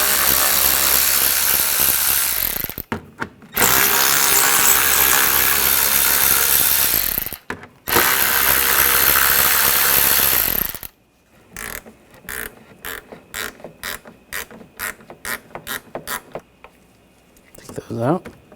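A power tool with an 8mm socket spins out bumper screws on a 2007-2013 BMW X5 in long loud whirring runs, followed by a series of short ratcheting bursts.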